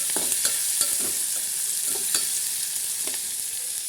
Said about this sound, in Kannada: ಇದು ಈರುಳ್ಳಿ ಮೆಣಸಿನ್ಕಾಯಿ ಎಲ್ಲ ಹಾಕಿರೋದು ಚೆನ್ನಾಗಿ ಫ್ರೈ ಮಾಡ್ಕೊಳ್ಳೋಣ